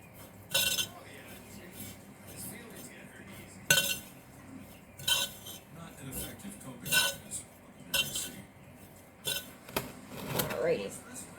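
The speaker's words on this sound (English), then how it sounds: "And I just take a spoon and I just stir it all up." A spoon stirs a potting mixture during late-night repotting, giving a series of scattered clinks and scrapes of utensil against a container at close range, with talk nearby.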